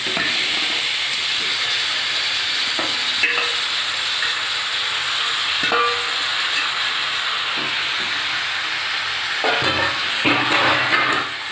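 Chicken pieces fry with ginger in a pan, a steady loud hiss and sizzle with occasional scraping stirs and clinks over about eleven seconds.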